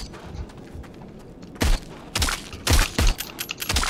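Gunshots in the VR video game Arizona Sunshine, a handful of loud close blasts in quick succession after a quieter stretch.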